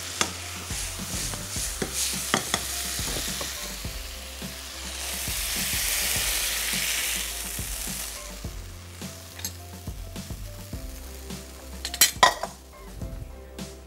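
French fries sizzle in hot oil in a kitchen, a steady frying hiss with a louder burst midway, while utensils stir and clink against the pan throughout.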